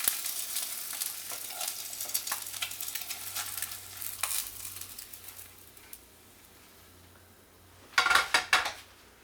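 Eggs fry in a pan with a steady crackling sizzle, close and moderately loud, before the sizzle fades and a few sharp clinks of a utensil against the pan ring out.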